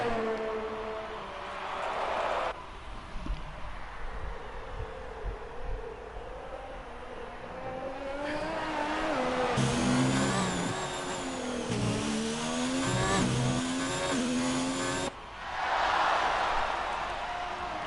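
An F1 car in F1 2019 at the Abu Dhabi Grand Prix brakes hard into a corner, its engine note falling and rising through downshifts and a lock-up, the whine loud and close before easing off.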